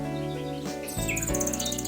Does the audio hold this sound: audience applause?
no